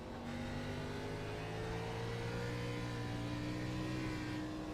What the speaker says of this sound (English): Watch him do business inside the cockpit of his race car.